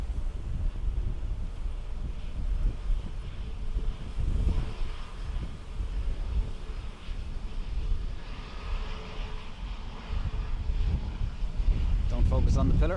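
Wind buffets the microphone at an airport, a rough continuous rumble that rises and falls in gusts, with distant aircraft noise faintly underneath and a brief voice near the end.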